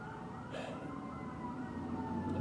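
A siren wails steadily in the distance, its tone rising and falling over a low background hum, with no voices present.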